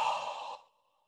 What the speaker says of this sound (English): and exhale with our mouth